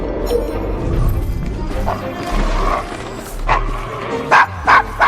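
A dog barks in the Victorian London streets of Assassin's Creed Syndicate, giving several loud, close barks near the end over a busy background of game ambience and brief voices.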